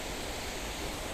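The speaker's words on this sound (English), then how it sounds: "listening to the sound and looking at the beautiful, peaceful waterfall" Waterfall in a Japanese garden at the Hotel New Otani in Tokyo, a steady, even rush of falling water with no breaks over a short moment, heard alone.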